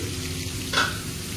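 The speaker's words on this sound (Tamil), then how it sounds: "சிக்கன் ஃப்ரை ஆகிட்டு இருக்கு." Chicken pieces fry in a pan for a bachelor-style Maggi recipe, giving a soft, steady sizzle that stays fairly faint and quiet throughout.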